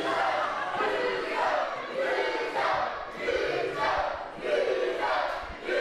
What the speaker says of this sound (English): This is a pure example of the scumbag crowd in Leicester chanting loser at Deville.